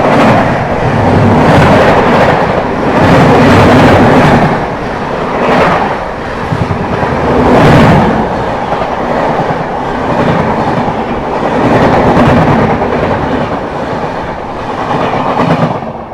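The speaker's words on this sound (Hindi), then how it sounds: "सामने से आते हुए अमृतसर विशाखापट्टनम हीराकुंड एक्सप्रेस।" The Amritsar–Visakhapatnam Hirakud Express passes on a crossing track, a loud continuous rumble of wheels with rhythmic clickety-clack from the coaches over about sixteen seconds, heard close from aboard another moving train.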